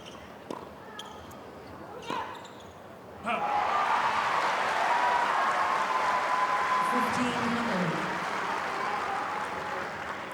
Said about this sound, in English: Crowd are waking up.